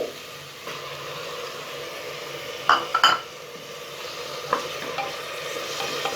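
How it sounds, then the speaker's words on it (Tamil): Tomato cooks in a pan for Ambur chicken biryani, a low steady sizzle with a few clinks and scrapes of a spoon on metal near the middle, close and without speech. "இப்போ தக்காளி சேர்த்துட்டு நல்லா மசியட்டும்"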